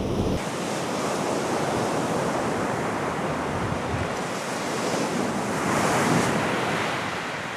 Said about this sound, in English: you can see it just washes away, and the backwash of the wave sucks it all back